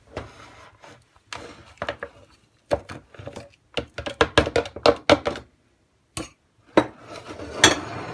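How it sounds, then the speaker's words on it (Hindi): A kitchen chopper grinds fried dry fruits in irregular bursts, giving clattering, rattling pulses with brief pauses between them and short silent gaps. "इस सारे ड्राई फ्रूट जो है फ्राई किए थे, इनको हम चॉपर में डालेंगे मिक्स करके"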